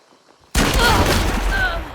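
Gunfire in the game Hunt: Showdown hits suddenly after a quiet moment, then a dense, loud burst of booming shots and rolling echo fills the rest of the moment, with faint voices underneath.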